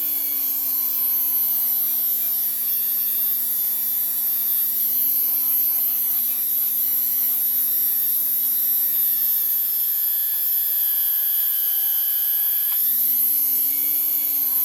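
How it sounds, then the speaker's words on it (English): A Dremel rotary tool with abrasive heads runs continuously while cleaning the power valve parts of a KX85 motorcycle, giving a steady, high-pitched whine that shifts pitch slightly now and then, close and unbroken with no talk. "Turn our Dremel on"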